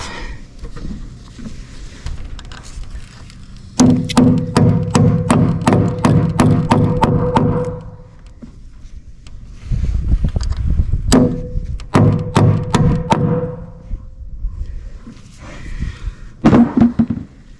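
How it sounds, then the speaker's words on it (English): Rapid, sharp hammer blows ring out in quick bursts, several strikes in a row, pausing between groups, close and loud, nailing hurricane straps onto roof trusses. "And putting the nails in."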